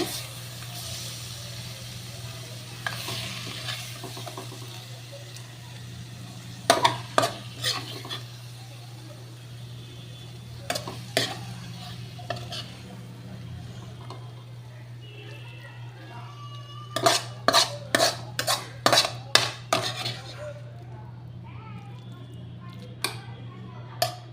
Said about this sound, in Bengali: এটা আমি একটা হাতার সাহায্যে নামিয়ে দিচ্ছি বাটির মধ্যে